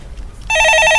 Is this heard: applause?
no